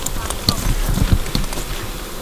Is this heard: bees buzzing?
yes